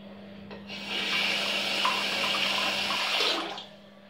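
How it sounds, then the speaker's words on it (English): Items rinsed under a running tap, a steady hiss of water that starts abruptly, flows for about three seconds with slight splashing changes, then cuts off, alone with no talking. "I'll just give them a rinse,"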